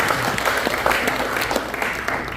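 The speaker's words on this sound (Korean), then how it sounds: "주님께 박수 한번 드립니다" Church congregation clapping together at a welcome dinner and opening worship service, a loud, continuous round of applause from a large crowd in an indoor hall.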